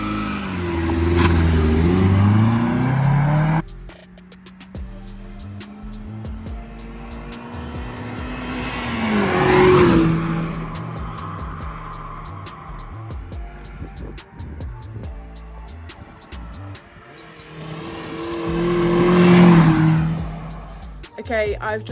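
A Mazda MX5 fitted with a Ramair intake revs and accelerates in two loud climbing pulls with a rasping intake note, passing through gear changes and a quieter cruising stretch, with wind and road noise between.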